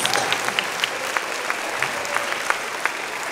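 An audience at an outdoor vegan camp-out gathering gives a sustained round of applause, many hands clapping in a dense, even patter with a few louder individual claps standing out.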